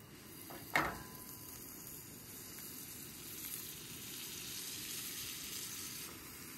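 A wrap fries in butter in a pan, caramelising and crisping while camping in a truck in -9 degree cold. A steady, fairly quiet sizzle runs throughout, with a brief sharper clatter near the start.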